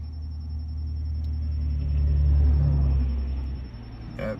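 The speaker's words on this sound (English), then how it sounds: "That loud car has one light" A loud car with one working headlight rumbles past close by, a deep low engine drone swelling to a peak and then fading away.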